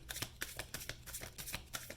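Close, quick shuffling of a tarot card deck: a rapid series of papery riffling and slapping bursts with an uneven rhythm, heard alone without talk.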